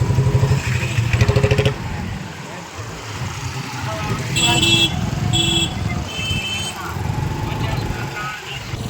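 Congested fair traffic near Gopnath during a Ram Katha, with motorcycles and cars rumbling nearby, a brief revving burst at the start and short horn toots midway, as voices chatter throughout.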